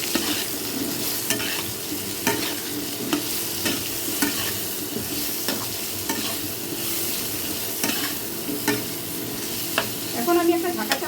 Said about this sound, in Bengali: লবণ দিয়ে আলুটাকে আমি একটু ভালো করে ভেজে নেব